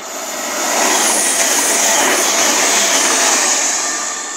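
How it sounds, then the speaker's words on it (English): An East Midlands Railway Class 222 diesel unit passes close by, a steady broadband rush of engine and wheel noise that swells up and holds loud for several seconds before easing slightly. "Next trip to pass by is going to be East Midlands Railway Class 222"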